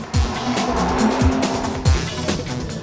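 A Skoda Octavia with the 1.8 TSI petrol engine drives hard. The loud, close engine roar comes with bursts of tyre noise throughout.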